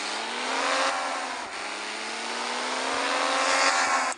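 A car engine in the Car Parking Multiplayer video game hums and revs in a steady rising drone while driving, close and fairly loud, with a brief dip in pitch partway through before climbing again and cutting off abruptly.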